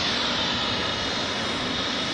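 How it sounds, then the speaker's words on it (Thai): A Qatar Airways airliner lands at Phuket airport, heard as a loud, continuous jet engine roar that stays steady and broad without any voices. "ถ้ามีเครื่องบินแลนดิ้งทางนี้นะผมจะถ่าย"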